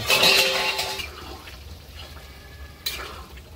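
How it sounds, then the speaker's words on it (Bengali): Water used to wash and grind spices is poured into chicken meat cooking in a pot for a hill-style chicken curry, giving a loud gushing splash that fades into a soft sizzle, then a brief clatter near the end. "মশলা ধোয়া এবং মশলা বাটার জলটা পুরোটা দিয়ে দেবো এই মাংসে"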